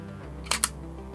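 A Canon EOS M50 mirrorless camera fires its shutter to take a single photo in auto exposure bracketing mode, two quick crisp mechanical clicks in close succession, heard up close over a quiet room.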